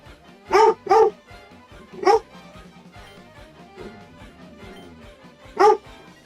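A dog barks four times in short sharp bursts, two close together, then one, then a last after a pause, fairly loud and near over low background sound within a RogueMon Pokémon game session.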